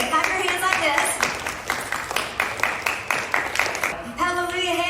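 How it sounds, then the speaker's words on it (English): Group of people clapping hands in unison during a church dance and devotion session, a steady rhythmic beat of sharp claps over singing voices, then stopping near the end. "Everybody, clap your hands like this."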